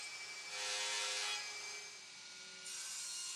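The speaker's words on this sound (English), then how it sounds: "at the router table I want to cut a rebate which will accommodate the end of the slats" Router table cutting a rebate along beech rails: a steady broadband hiss of the bit in hardwood, swelling through most of the stretch with a brief easing midway, fairly loud and close, no voices.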